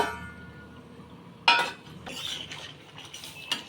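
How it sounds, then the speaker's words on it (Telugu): A metal lid is set onto a pot of simmering crab curry, giving one sharp clank followed by lighter clinks and rattles as it settles, close and clear in a quiet kitchen. "మూత పెట్టేసి ఒక పది నిమిషాల వరకు"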